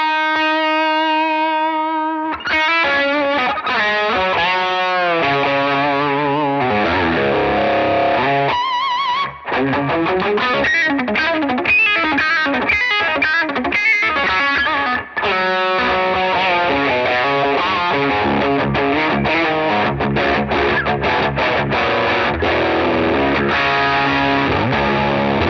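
Electric guitar played through a Strymon Riverside overdrive pedal set as a boost drive over an already gained signal: a sustained distorted chord rings out, then busy driven riffs and chords play continuously and loudly, with no talking.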